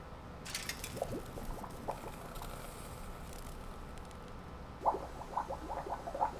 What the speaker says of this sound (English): Bubbling and stuff?